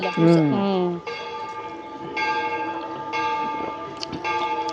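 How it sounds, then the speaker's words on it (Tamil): A Hindu temple bell rings in a village with long, sustained metallic tones that hang and overlap, struck again every second or so, moderately distant, with a faint voice briefly at the start. "கோயில் மணி பாருங்க. 6 மணி ஆகுது."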